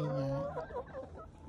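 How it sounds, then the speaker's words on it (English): Malay and Rhode Island Red chickens on a farm cluck in a close, busy string of short calls, one drawn-out call opening before quicker, choppier clucks follow. "And these are my Malay chickens"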